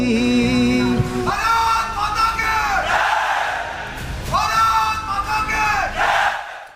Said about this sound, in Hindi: भारत माता की जय के नारे के साथ स्वागत किया गया और INS विक्रांत पर देखिए कैसी जोरदार तालियां बजी